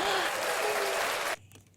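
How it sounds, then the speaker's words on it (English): Podcast hosts applauding in a studio, a steady wash of clapping that cuts off abruptly, followed by a few faint taps and quiet room noise. "Should we applaud?"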